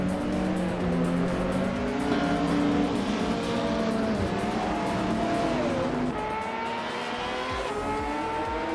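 Race cars in a racing video game speed along and overtake one another, with loud, continuous layered engine whines rising and falling in pitch and tire noise throughout, with no other sounds.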